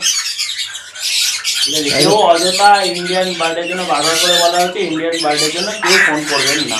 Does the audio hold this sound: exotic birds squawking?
yes